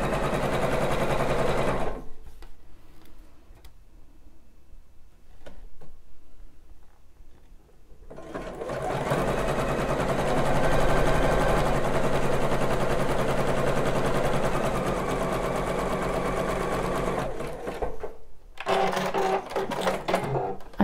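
A sewing machine runs in long, steady bursts while stitching a bra seam, loud and close, with a quieter pause of handling between runs and a short stop near the end.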